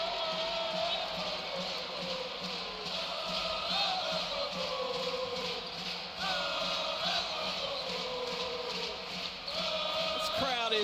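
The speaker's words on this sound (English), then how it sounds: "This crowd is rocking." A packed college basketball arena during a South Carolina at Georgia men's game, heard from near the student section: a constant, loud roar of cheering voices with occasional swells and whoops, sustained throughout.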